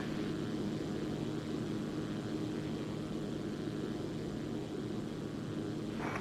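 Single-prop light aircraft such as a Zlin Z-142 or TBM900 in the X-Plane flight simulator, taking off from EGFD Llanbedr with a steady, loud engine drone that holds throughout, without a break.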